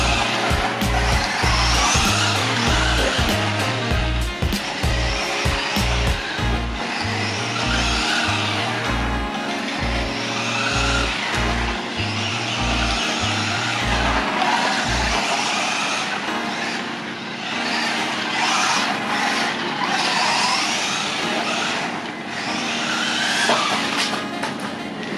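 A WLToys A959-A Vortex RC car driving, its electric motor giving a loud, steady whine with rising and falling pitch over a constant backing music track, no speech.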